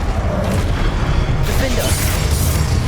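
Spell blasts from Incendio fire magic in Hogwarts Legacy, a dense, loud, continuous roar of bursts and booms with a brighter surge partway through, set within hectic spell-casting combat.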